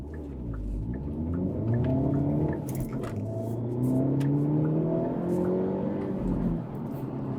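Hyundai Elantra N sedan in N mode accelerating, its exhaust rising in a loud, close drone with gear changes stepping the pitch up and down, no talking over it.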